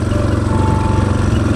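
An off-road motorcycle engine brakes down a steep forest trail, holding a steady, close mid-pitched drone for a moment with no voices.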